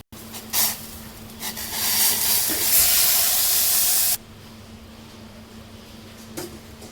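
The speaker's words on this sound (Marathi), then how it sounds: "आता आपण याच्यामध्ये गरम पाणी उकळून घेतलेलं ते टाकून घेणार आहोत" Boiled hot water poured onto golden roasted wheat vermicelli for a sweet dish hisses loudly and steadily for about three seconds, then cuts off sharply, leaving quiet room noise.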